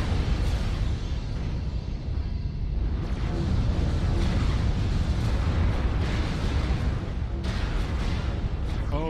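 Missile explosions roll through a video game battle during a base assault, a steady barrage of deep booming blasts and rumbling over nearly ten seconds with no clear gaps.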